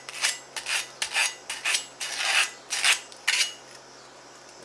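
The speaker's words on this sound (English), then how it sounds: "So I'm going to get some sandpaper and clean that up just a little bit." Sandpaper scrubs a sharp metal burr on a torque converter part for a 420cc Predator engine, giving a series of about a dozen short, close rasping strokes in an uneven back-and-forth rhythm.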